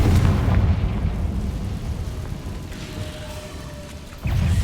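A Confringo blasting curse in the Hogwarts Legacy video game lands as a loud, deep boom with a long rumbling tail that fades away, then a second burst kicks in just at the end. No voices are heard.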